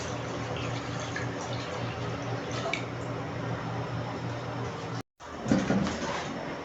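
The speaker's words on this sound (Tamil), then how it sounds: "தேவையான அளவுக்கு தண்ணி ஊற்றிக்கலாம்." Water poured into a pot for semiya payasam in a bachelor's kitchen, a steady splashing, trickling stream close by that breaks off briefly near the end before resuming with a louder gush.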